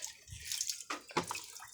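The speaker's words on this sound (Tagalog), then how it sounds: "Nagsasahod kasi akong tubig eh." Water runs into a container near the sea, splashing and gurgling in short bursts, close and moderately loud, with no voices.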